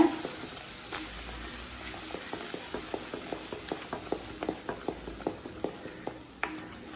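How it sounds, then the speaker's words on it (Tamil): Roasted wheat flour and moong dal being stirred in a pan, a steady run of soft regular scrapes from the spoon over a quiet background hiss, close and fairly faint, with no talk. "நல்லா கட்டி இல்லாமல் இருக்க கிளறிக்கிட்டே இருங்க"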